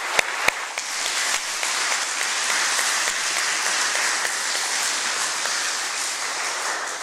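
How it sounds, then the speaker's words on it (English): A church congregation at a Sunday Mass breaks into sustained applause, a steady dense wash of clapping that fills the room at even loudness throughout. "Let's give a round of applause and of support of these children"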